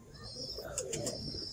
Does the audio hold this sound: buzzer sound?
no